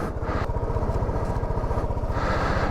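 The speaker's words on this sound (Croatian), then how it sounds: "Pa kad ga već palim zbog akumulatora, ajde onda i da odem na posao skuterom." A Sym Joyride 300 scooter engine idles on a snowy day, a steady, close, rhythmic low putter that holds evenly throughout with no talk.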